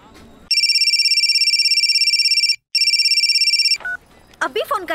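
A phone rings in two long electronic trills with a brief gap between, loud and close, followed by a short beep and someone starting to speak.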